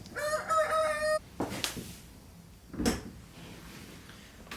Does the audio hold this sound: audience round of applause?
no